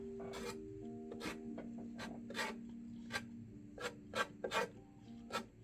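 Brush or palette knife scratching across wet oil paint on a canvas, a series of short dry rasping strokes in an irregular rhythm, close and fairly quiet with no talking.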